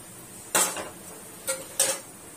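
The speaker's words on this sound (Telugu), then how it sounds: "స్టవ్ ఆన్ చేసుకొని కళాయి పెట్టుకోవాలి" A metal kadai set down on a home kitchen stove, giving one clanking metallic knock followed by two lighter clinks close by, with no one speaking.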